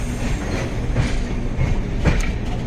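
A train rolls slowly into Lonavala station with a steady rumble and soft rhythmic clacks of wheels on rails, heard from inside the carriage.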